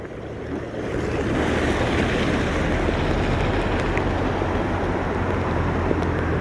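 Heavy river water pouring into the Mokeshwar dam during a strong monsoon inflow, a loud steady roar of rushing water with wind buffeting the microphone, continuous and close for the whole stretch.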